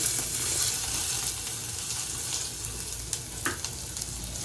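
Chopped onion fries in smoking hot oil for chicken rassa, a dense, loud sizzle that hisses steadily with occasional pops and light stirring scrapes.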